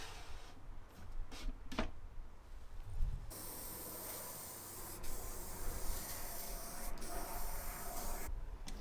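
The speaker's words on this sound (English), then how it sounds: "I'm going to spray a few more coats of lacquer and apply some beeswax, give it a polish" Spray can or spray gun applying coats of lacquer to an old wooden tea trolley being restored: a few short hissing bursts, then a long continuous close spray hiss lasting several seconds.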